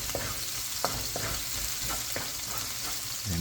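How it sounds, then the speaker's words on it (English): Garlic sautés in a wok over high heat for a beef stir-fry, giving a steady close sizzle broken by several sharp scrapes of stirring. "Now I'm gonna saute our aromatics. I'm gonna start with our garlic."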